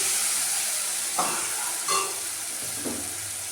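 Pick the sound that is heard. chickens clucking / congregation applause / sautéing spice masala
sautéing spice masala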